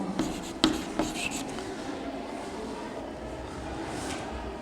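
Chalk or marker writing on a classroom board during a Class 12 matrix maths lesson, a few sharp taps and strokes early on, then a steady faint scratching over a constant room hum, no speech.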